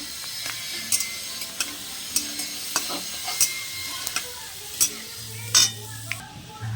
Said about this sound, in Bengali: অল্প একটু চিনি আমি তেলের মধ্যে দিয়ে দিচ্ছি সামান্য ভালো করে এবার এটাকে আমি একটুখানি ভেজে নেবো